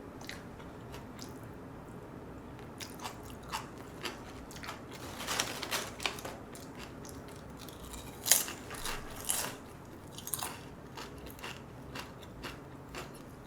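Yukgaejang-flavored potato chips being eaten with kimchi produce quiet, close crunches and wet chewing, with sharper crisp bites clustering midway and toward the end, no talking.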